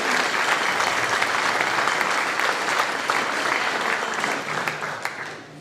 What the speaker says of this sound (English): round of applause for all those people